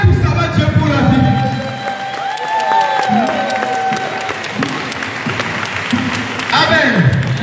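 A church congregation breaks into loud applause and cheering, a dense sustained wash of clapping with shouts and voices rising over it, close and full, continuing for several seconds.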